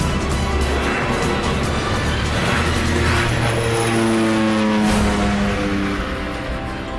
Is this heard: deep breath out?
no